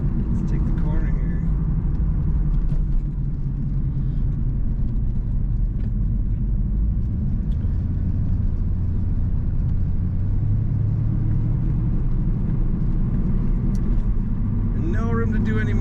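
A 2003 anniversary edition Corvette convertible rounds a corner, its engine giving a steady low rumble throughout with wind and road noise, heard from inside the car.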